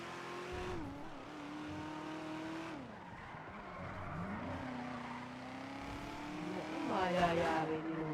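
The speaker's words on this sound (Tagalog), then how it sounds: "Na-testing ko lang yung mga kotse namin." Cars driving around with engines revving and tires squealing in short skids, loud and steady throughout, with a voice briefly heard over them.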